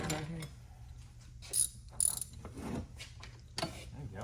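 A ratchet loosens the bolts on the rear pump of a Ford-o-Matic transmission during disassembly. Quiet, intermittent bursts of ratcheting clicks come close by against a hushed workshop background.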